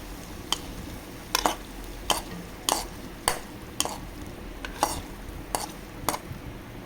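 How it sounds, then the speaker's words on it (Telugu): A spoon stirs fried tempering into raw tamarind broth for Telangana-style pachi pulusu, knocking against the pot in a steady rhythm of about ten clinks over a low, soft background. "ఇలా అన్నీ బాగా ఫ్రై అయ్యాక మనం కలిపి పెట్టుకున్న చారులో అయితే వేసేసుకుంటాం"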